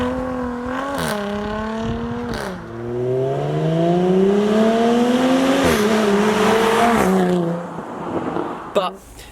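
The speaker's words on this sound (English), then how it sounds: "when you open that exhaust valve, I said, the sound is brilliant" A Jaguar F-Type with its standard exhaust pulls through the gears close by, engine note climbing steadily between shifts. A voice seems to run underneath.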